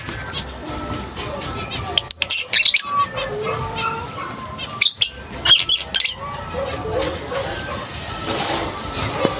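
Small birds chirp and squawk in sharp, scattered bursts while being fed, loud and close over a steady background hiss, with a few quieter periods between the calls.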